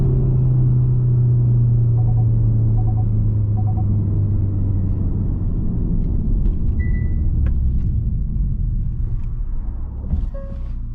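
A 2022 Hyundai Sonata N Line heard from inside the cabin as it accelerates, a loud sustained engine drone and road rumble that holds throughout, easing slightly near the end.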